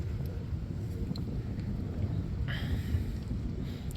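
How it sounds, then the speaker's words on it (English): Steady outdoor wind rumble and gusting noise as a storm front moves in, constant low buffeting across the whole stretch with faint distant background sounds. "Wind's starting to pick up, the front's starting to move in."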